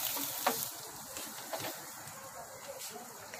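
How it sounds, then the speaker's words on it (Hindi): Potatoes and cauliflower dropped into fried masala in a handi pot on the stove, a faint steady sizzle with soft stirring scrapes and a few brief crackles. "तो अब डालेंगे हम इसमें आलू गोभी।"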